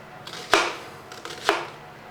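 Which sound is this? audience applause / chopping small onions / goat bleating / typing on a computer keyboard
chopping small onions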